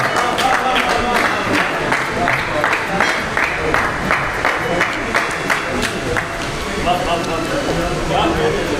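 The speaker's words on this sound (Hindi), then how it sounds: "भरपूर तालियां।" An audience at an Urdu poetry recital claps in a loud round, sharp individual claps overlapping as a crowd, with someone speaking over the applause.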